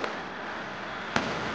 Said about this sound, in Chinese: 空中的咱这个烟火非常的水啦吼